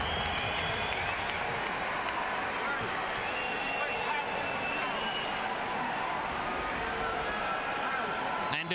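A steady roar of applause and cheering from a large boxing crowd, constant and dense throughout, with a commentator talking over it.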